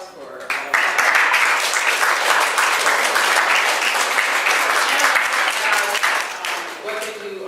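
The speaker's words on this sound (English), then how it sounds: "they should get a round of applause for all of that" An audience at a panel event breaks into a sustained round of applause that swells quickly, holds dense and loud for several seconds, then begins to thin out, with a voice briefly audible at the start.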